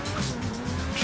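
Lamborghini supercar in the video game GTA 5 racing at speed, a steady engine roar with short tire squeals and skidding over one continuous loud burst, no voices.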